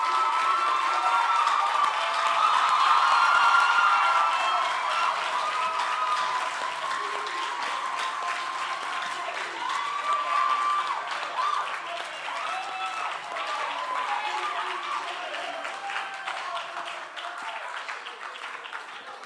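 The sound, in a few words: audience applauding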